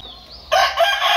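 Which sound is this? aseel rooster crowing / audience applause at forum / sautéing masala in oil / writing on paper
aseel rooster crowing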